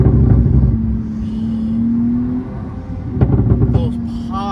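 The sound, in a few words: 1000 HP Porsche 911 Turbo exhaust pops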